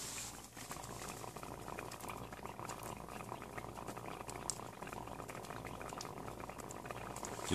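A water-activated heating pack for outdoor cooking, made with natural lime inside a PE outer pouch, fizzes and bubbles steadily and softly throughout, a continuous close hiss with no talking.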